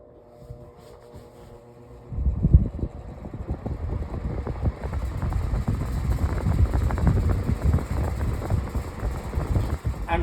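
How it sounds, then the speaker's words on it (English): An electric fan starts up slowly from near silence, its whooshing whir building over a couple of seconds and then holding as a loud, buffeting airflow close to the microphone. "this is a slow starter fan too compared to this thing"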